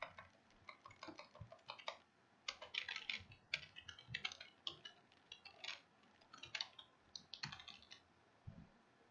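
Typing on a computer keyboard while entering a web payload: quiet, quick runs of light key taps in uneven bursts, close but soft, with no talking.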